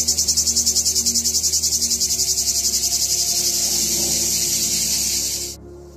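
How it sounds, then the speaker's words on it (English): A cicada near a mountain gives a loud, continuous buzzing drone. It pulses rapidly at first, then settles into a steady whir before cutting off abruptly near the end. "These sounds are made by an insect called cicada."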